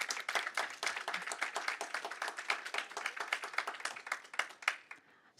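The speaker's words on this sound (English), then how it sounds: "we can give them a round of applause" A small audience claps for panel guests at a conference on crop diversity and climate resilience, a dense patter of hand claps close by that thins out and stops near the end.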